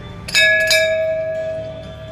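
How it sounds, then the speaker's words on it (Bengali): A temple bell is struck twice in quick succession, its bright metallic tone ringing on and slowly fading, with soft background murmur. "একবার একবার ঘন্টাটা বাজিয়ে দিই"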